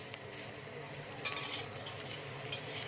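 Shrimp stir-fry in a wok on a BlueStar cooktop with a loud, steady sizzle and hiss, broken by a few scraping stirs of a utensil against the metal, and no talking.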